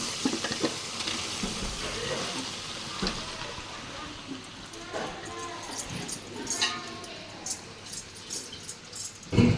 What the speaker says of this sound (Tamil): சாதம் போட்டு மிக்ஸ் பண்ணி எடுத்துக்கலாம்